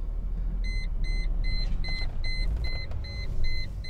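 Seatbelt warning chime in a Chrysler Crossfire, a steady series of about ten evenly spaced electronic beeps over the low rumble of the idling car.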